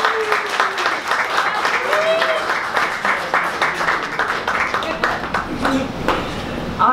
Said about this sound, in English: one more round of applause for HealPal